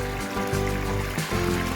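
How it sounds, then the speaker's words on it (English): Water flows steadily through a tiny backyard creek only 6 to 8 inches wide, built with overlapping liners, giving a continuous close trickling wash. "Able to get some nice flow and sound even with a tiny little creek like this"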